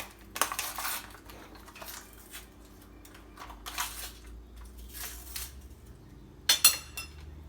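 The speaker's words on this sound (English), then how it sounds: "I will be getting 3 tablespoons of cocoa powder" Three tablespoons of cocoa powder being scooped from a fresh pack, with a few soft scrapes of a metal spoon, faint dry rustles, and a brighter clink near the end, all close and quiet with no talking.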